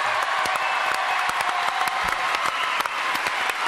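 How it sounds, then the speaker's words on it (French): A TV studio audience applauds steadily and loudly, dense clapping filling the room throughout with a little crowd noise and no talk over it. "Je pense que le public ici présent devrait les applaudir."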